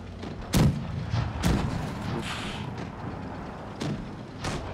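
Tank cannon fire in World of Tanks Blitz on Nintendo Switch, heavy booming shots cracking out at irregular intervals, two louder blasts early and softer ones later, over a constant rumbling battle background.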